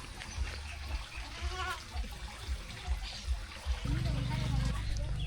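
Goats bleat nearby, a few short calls amid outdoor background noise and some talking.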